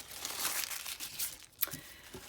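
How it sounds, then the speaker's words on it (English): Crinkly crumpling and rustling of thin material being cut into small pieces for vintage Kodak specimen slide mounts, close and fairly quiet, with a brief sharper snip partway through. "I'm just going to cut a couple of pieces."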